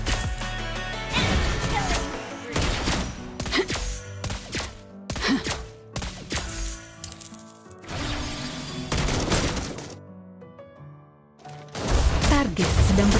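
Gunshots from the hero Granger in the video game Mobile Legends, built with Magic Shoes and Sky Piercer: a rapid series of loud, punchy shots and impacts in bursts over game music and effects, with brief pauses between volleys.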